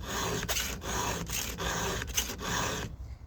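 A hand file rasps across a chainsaw chain tooth in steady back-and-forth strokes, close and fairly loud, about six swipes in a row before stopping.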